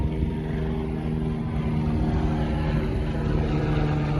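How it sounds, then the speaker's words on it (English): A helicopter drones overhead with a steady, loud, rumbling rotor and engine noise that holds evenly throughout, with no other sounds breaking through. "There'll be a helicopter flying overhead"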